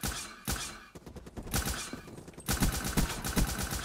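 Rapid bursts of video-game gunfire crack out in repeated volleys, loud and close, with an especially dense stretch of rapid shots near the end.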